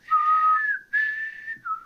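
A person whistles a short, clear tune of two sustained phrases with a brief gap between them, close and alone with no other sounds.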